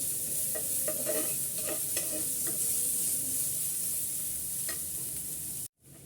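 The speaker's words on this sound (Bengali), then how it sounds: "এখন এই ফ্রাই প্যানের ভিতরেই আমি কিছুটা পেঁয়াজ দিয়ে দিচ্ছি আর পেঁয়াজটা একটু হালকা ভেজে নিচ্ছি আমি" Onions lightly frying in a frying pan, a constant hissing sizzle with spatula scrapes and stirring taps, close and without talk, ending in a sudden brief cut.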